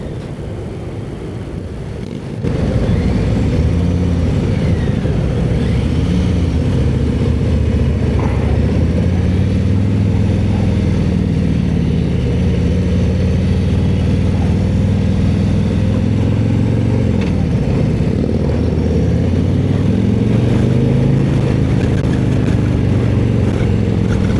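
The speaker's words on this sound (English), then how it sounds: "let's get to the ride. I really like this motorcycle." A 2025 Harley-Davidson Road King motorcycle on a ride, its engine starting after a brief quieter moment and then holding a loud, continuous low rumble with rising and falling revs as it accelerates and shifts, heard up close with no talking.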